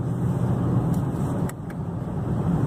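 A Camaro Hot Wheels 50th Anniversary Edition drives along with its engine giving a steady, loud drone and road rumble, heard from inside the car with a couple of brief higher noises.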